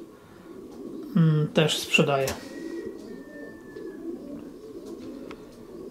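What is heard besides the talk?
pigeons cooing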